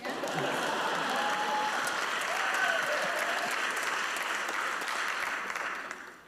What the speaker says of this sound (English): And perhaps a round of applause for his newly enlightened father